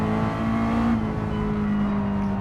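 Mazda race car engine in Gran Turismo 7 revving steadily under light throttle, a sustained buzzing drone with a slight pitch drop partway through, loud and without talk.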